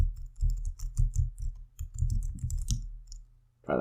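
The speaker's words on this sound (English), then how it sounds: "And type in my password." A password is typed on a Mac computer keyboard in a quick run of close, crisp key clicks, with a brief pause near the end.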